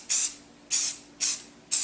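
Four short hissing bursts of spray primer from an aerosol can, applied to small Nerf gun pieces, evenly spaced and fairly loud with quiet gaps between them.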